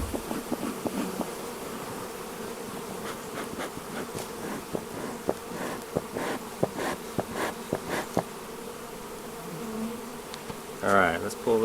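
Honeybees buzz steadily around a nucleus hive frame during an Ozarks inspection, a dense close hum with individual bees passing near, with brief movement noises near the end.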